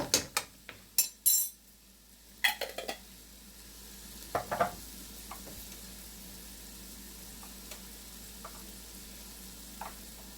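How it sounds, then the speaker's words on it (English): Onions, green pepper and garlic are sautéed in a pan, with a few sharp utensil clanks and stirring knocks at the start over a low, steady sizzle that continues quietly with occasional taps. "We're just going to saute the onions, green pepper, and the garlic"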